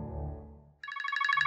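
A mobile phone ringtone rings in a rapid, pulsing electronic pattern and cuts in abruptly after a fading low tone, sounding close and clear.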